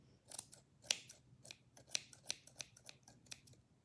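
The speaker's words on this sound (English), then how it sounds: "My scissors are not working very well today." Scissors snip through fuzz while trimming a beard for a handmade gnome ornament, a string of quick, crisp close-up cuts at an uneven pace, with no talking.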